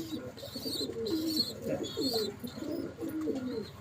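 Pigeons in a loft of imported Pakistani Teddy birds coo in soft, repeated throaty rolls, several overlapping nearby, over a low background murmur.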